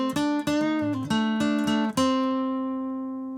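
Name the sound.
acoustic guitar playing Alberta blues solo section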